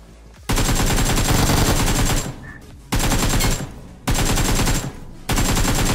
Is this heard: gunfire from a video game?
yes